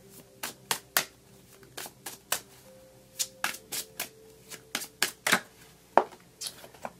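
Tarot cards are shuffled by hand at close range, giving a steady series of crisp, papery riffles and slaps at an irregular pace. No one speaks over it.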